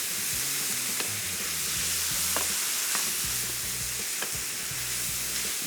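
Cooked beef filling for cheese quesadillas sizzles steadily in a pan while a spatula stirs it, with occasional sharp scraping clicks over a low, humming background tone.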